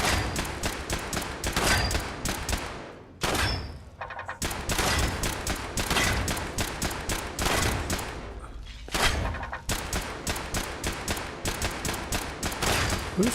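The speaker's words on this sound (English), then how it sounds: "Who's shooting?" Rapid automatic gunfire from the video game Fallout 76 pounds in long, dense bursts. It pauses briefly twice and then resumes, loud and close with a heavy low thump under each volley.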